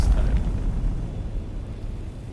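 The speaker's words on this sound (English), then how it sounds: "I think that was another spice explosion that I just heard" A spice explosion in the video game Dune Awakening rumbles as a deep, sustained roar that starts strong and slowly eases off.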